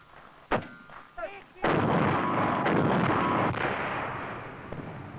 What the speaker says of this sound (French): Les engins philo-guidés à longue portée et les canons anti-chars ouvrent le feu à partir de positions masquées.